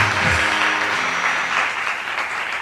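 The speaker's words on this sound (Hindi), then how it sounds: "उनके लिए तालियां बजा दें" A large audience at a live talk event applauding, loud sustained clapping from many hands that fades slightly toward the end.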